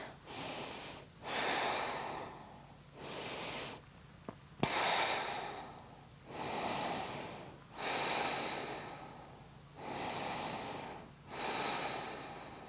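Heavy, rhythmic breathing during Pilates hip dips, with about seven strong, even inhales and exhales close to the microphone and a brief click partway through.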